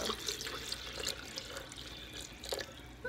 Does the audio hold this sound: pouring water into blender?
yes